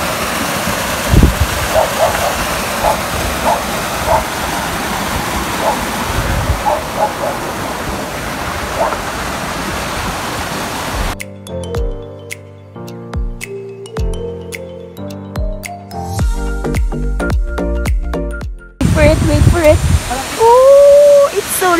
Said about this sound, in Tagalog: can you hear that rushing waters?